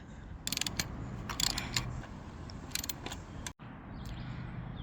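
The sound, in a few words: socket wrench loosening bolt with bolt extractor on mini bike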